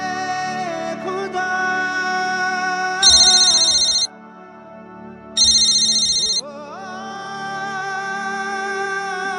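A phone ringtone plays in two bursts of bright, repeated electronic tones over background music, with a pause between rings.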